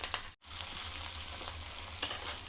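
Green chilies fry in a pan with a steady, close crackling sizzle that runs almost without break, dropping out for only a brief instant early on, with a few sharper pops and spatters over it and no voices.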